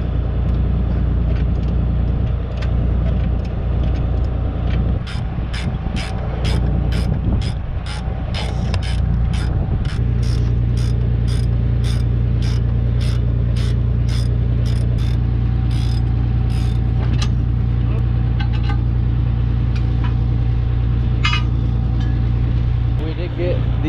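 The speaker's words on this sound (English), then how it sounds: "now they're up off the ground and we can start changing them" Tire changing on a farm planter with its wheels raised off the ground, a steady engine drone with rhythmic ratcheting mechanical clicks and creaks, while people talk over the noise.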